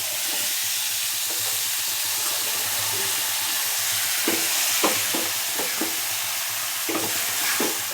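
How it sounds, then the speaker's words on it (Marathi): Sliced cabbage being sautéed in a pan for a spicy cabbage and pea masala, with a constant soft sizzle under repeated scraping stirs of a spatula, no talking. "छान परतून घ्यायचं."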